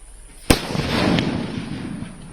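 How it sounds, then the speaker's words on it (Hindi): A single firecracker set off by a forest department team to scare wolves cracks sharply, followed by a drawn-out rumbling echo that fades over the next two seconds. "भेड़ियों को पकड़ने के इस ऑपरेशन में वन विभाग की टीम पटाखे भी छोड़ रही है"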